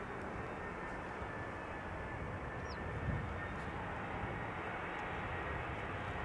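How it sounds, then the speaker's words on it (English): A turboprop aircraft flying high overhead near Schiphol's Polderbaan runway, a steady, broad, distant drone that holds evenly throughout, with light breeze noise mixed in. "I am hearing a turboprop."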